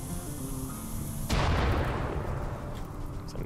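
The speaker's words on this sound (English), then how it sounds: "It's another explosion." An explosion in the RimWorld video game bursts out suddenly as a loud, broad boom after a steady tone, then decays into a rumbling, crackling wash.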